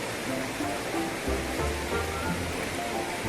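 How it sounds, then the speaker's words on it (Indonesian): An underground river mouth flows out beneath a cliff at Baron Beach, making a steady, dense rush of water that fills the scene without pause. "ini seperti ini suasananya muara sungai yang berada di bawah tebing di Mbaron"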